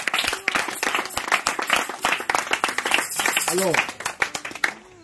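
A church congregation at a wedding consecration bursts into loud, dense applause and clapping to acclaim the Lord, sustained for several seconds while a voice speaks over it before it fades.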